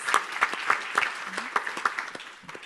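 Scattered handclaps from a small audience at a 2015 financial markets quality panel, moderately close, with irregular claps that thin out and fade over a few seconds.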